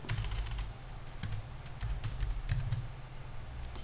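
Quick, light keystrokes clatter on a computer keyboard as C++ code is typed, a close and irregular run of taps over a low, steady background hum.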